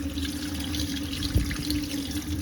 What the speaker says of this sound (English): if you just let regular water run, I have it on the hot one